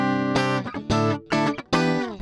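A clean electric guitar plays through a Zoom G3XN multi-effects unit set to a Fender Twin Reverb amp model with the bright switch off, giving a few strummed chords and single notes with rich sustained harmonics, close and clear, with short gaps between phrases.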